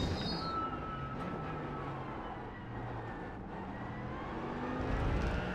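Mercedes GT3 race car in a racing video game at Circuit de Barcelona, its engine droning steadily with shifting pitch and a roughly constant loudness, swelling near the end.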